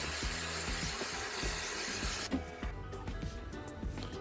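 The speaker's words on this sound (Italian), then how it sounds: "Adesso spruzziamo un po' di sanificante, di deodorante spray" A loud, continuous hiss of sanitizing deodorant spray runs for about two seconds inside a fan coil unit, then cuts off, leaving faint clicks and rustling.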